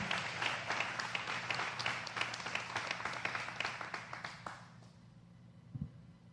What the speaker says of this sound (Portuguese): você pode aplaudir, só para não deixar o pregador sozinho